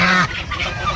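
A goose lets out a single loud, close nasal honk in a turkey-raising yard, the call fading after a fraction of a second into quieter bird noise.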